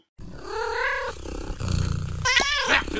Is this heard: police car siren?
no